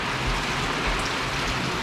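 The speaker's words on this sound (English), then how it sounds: "And it's raining again." Steady rainy-season downpour in Laos, a dense, even hiss of rain hitting surfaces close by, continuous with no breaks and no voices.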